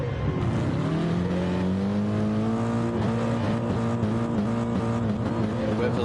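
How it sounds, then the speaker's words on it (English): Race cars in a racing simulator game rev their engines on the grid at the Catalunya circuit before the start, a dense layered drone of rising engine notes that holds loud and steady throughout. "Wait for the lights, everyone's revving, waiting for the lights to go out."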